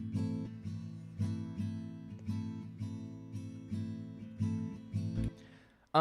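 Electric guitar chords struck in a steady rhythm, about a dozen strums ringing out, ending with a muted scrape and a sudden thump.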